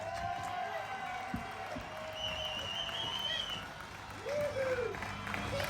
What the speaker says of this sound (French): j'aimerais qu'on l'applaudisse, qu'on l'ovationne